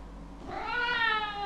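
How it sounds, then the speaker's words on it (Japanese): Cat meowing in the video game Jack the Ripper: a single drawn-out, rising meow over a low steady hum, close and clear. "彼の手には追っていた猫ビルが抱えられていた。"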